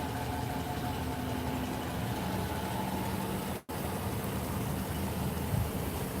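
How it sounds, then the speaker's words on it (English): A parked police car idles steadily, its engine giving a continuous low rumble and hiss with one brief dropout partway through. "so we got an idling cop car here"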